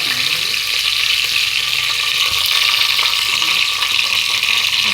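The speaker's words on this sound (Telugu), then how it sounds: "ఇప్పుడు మన ఈ ఓల్ గరం మసాలా మొత్తం ఇందులో వేస్తా." Whole garam masala crackles and sizzles loudly in hot oil, a dense, steady frying hiss with faint stirring noises underneath.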